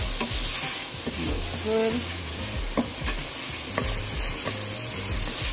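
Garlic sizzles steadily in a pan over medium-low heat for jerk shrimp pasta, with a constant close frying hiss and occasional stirring scrapes, and a voice speaks briefly.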